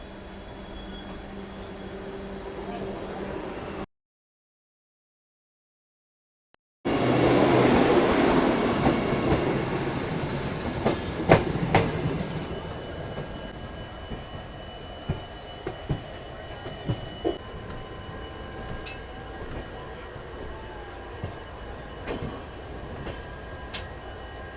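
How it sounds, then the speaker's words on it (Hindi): Riding aboard the Vikramshila Express near Kanpur, a passing Vande Bharat Express brings a rush of rail noise after a short gap, followed by rhythmic clickety-clack and intermittent clanks of wheels over track joints. "कानपुर के आउटर पे अपनी मुलाकात हो रही है 20175 बनारस आगरा कैंट वंदे भारत एक्सप्रेस से"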